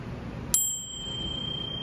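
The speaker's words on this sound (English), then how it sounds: "We have a chime here that's not LP." A small percussion chime, a non-LP piece in a percussion rig, is struck once, giving a bright ringing strike with high sustained overtones that decay slowly over a low background hum.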